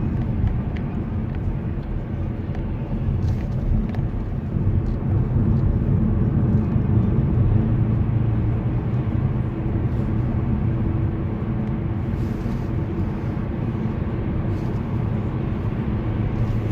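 A low, heavy jet engine roar rumbles steadily for the whole stretch, swelling slightly as the aircraft passes close overhead on its landing approach in Istanbul.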